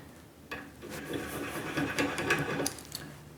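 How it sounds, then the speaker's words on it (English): A small Noga rotary deburring tool lightly chamfers the inside edge of a hardened steel washer held in a vise, giving a soft, steady scraping and rasping lasting a few seconds, close and faint with no talking. "use a little Noga rotary deburring tool to just very, very lightly chamfer that inside edge"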